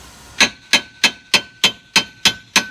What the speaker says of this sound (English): I should be able to tap it up in there.